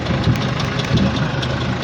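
A tractor engine idles in a steady, close, loud rumble with a slightly uneven throb, heard alone for a moment.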